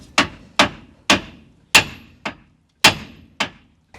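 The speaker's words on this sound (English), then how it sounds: "and then I'll hit it with a hammer" Seven sharp metallic hammer strikes on a nut ring out at an uneven pace, each blow clear and close with a short decay and silence between, during a Holden car repair.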